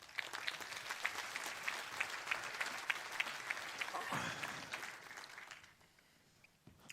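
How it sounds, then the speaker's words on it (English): An audience at a Polestar evening event claps in a sustained round of applause as people come onto the stage, dense and lively at first, then thinning and fading out near the end. "Round of applause, come on."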